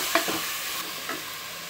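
Chicken sautéing in a pan gives a steady, close sizzle, broken by a few light scrapes and clinks as it is stirred, with no talking.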